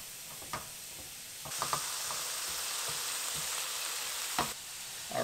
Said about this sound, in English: We'll cook the onion for about 2, maybe 3 minutes